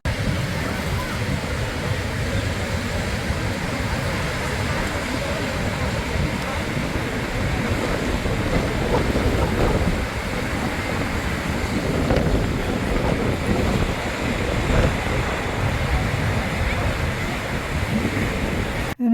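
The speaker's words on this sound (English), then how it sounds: "the heavy surf is coming in" Heavy ocean surf roars continuously at the Giant's Causeway, with wind buffeting the microphone throughout, loud and close, with no pauses.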